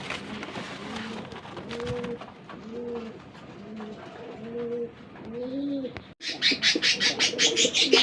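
A pair of pigeons, a male and a female, coo repeatedly in a rhythmic series of soft, rising-and-falling calls, close by, with rustling and chirpy noise at the end.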